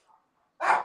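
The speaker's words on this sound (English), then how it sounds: "That's my dog in the background." A dog gives a single short bark at the end after a faint whimper, heard close and fairly loud against an otherwise quiet room.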